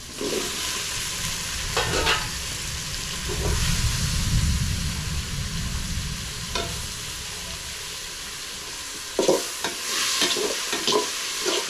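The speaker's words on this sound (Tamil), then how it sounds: "அது கூட வந்து நம்ம கட் பண்ணி வச்சிருக்கிற முருங்கைக்காய் உருளைக்கிழங்கு இதையும் சேர்த்து வதக்கிக்கலாம்" Onion, tomato, drumstick and potato sauté in a pan, a steady soft sizzle broken by scraping stirs of a spoon, close and without talk.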